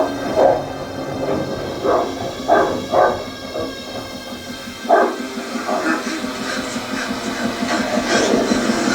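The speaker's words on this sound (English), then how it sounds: "Dog. Dog. Dog!" A dog barks in a tense scene from the horror film The Black Phone, with several sharp, spaced barks over a steady low rumble and hum, while voices speak in the background.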